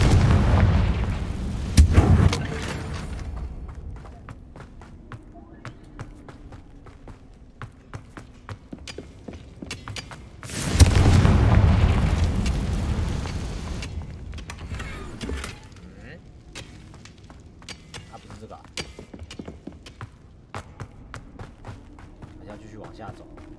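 Two heavy blasts from the Confringo spell in the Hogwarts Legacy video game, each a loud booming explosion followed by fading rumble and crackle, separated by quieter game ambience.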